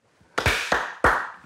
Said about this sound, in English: we're going to do on three a big clap